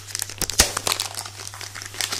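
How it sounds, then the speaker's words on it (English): A book parcel is unwrapped close up, with crisp crinkling packaging and a sharp snap or tear partway through among scattered rustles, and nobody speaking. "So I'm going to unbox it and let's have a look what's in the box."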